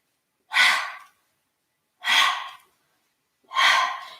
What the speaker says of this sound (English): rapidly drop the knees side to side, finding the audible breath that works for you